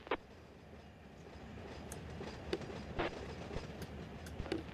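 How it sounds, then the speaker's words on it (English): A steel freight train rolls past in the Run 8 train simulator game at Norfolk Southern's Norris Yard: a low, steady rumble with sharp intermittent clicks and clanks of wheels over rail joints, fairly quiet and without voices. "There's that steel train I was just looking at."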